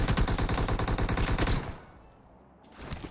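Rapid automatic gunfire from the PUBG battle royale game on the Erangel map rattles in a dense, loud burst, then cuts off into near silence before faint noise returns.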